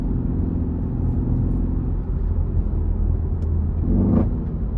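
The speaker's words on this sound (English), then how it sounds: "that's a downshift into third. It's like quarter throttle." A 2015 Mercedes E63s AMG wagon's V8 drones in a low, steady rumble at light throttle, then revs briefly as it downshifts into third near the end, heard from inside the cabin.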